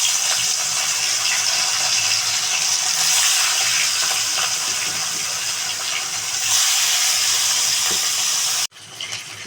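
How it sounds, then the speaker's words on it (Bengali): Fish sizzles steadily in hot oil, a dense close crackle that runs on without a break and then stops abruptly near the end. "তেল মনে হয় গরম হয়ে গেছে, মাছগুলোকে একে একে ছেড়ে মাছগুলোকে ভেজে তুলে নিই।"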